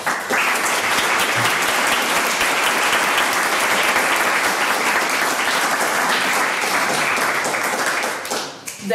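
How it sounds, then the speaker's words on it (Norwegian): An audience at a live panel event applauds in a long, loud, dense burst of clapping that holds steady before dying away at the end, with brief talk as it fades. "Det var da den siste applausen inni arrangementet."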